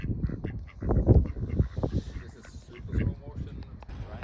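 Ducks quacking and honking in a first-person duck-watching video game, several rough quacks repeating irregularly, mixed with a voice talking over them.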